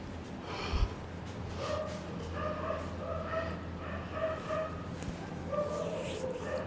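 Dogs bark in repeated short bursts some distance off, with a snort-like sound early on and a low ambient hum underneath.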